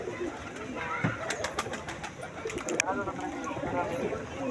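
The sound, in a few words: pigeons cooing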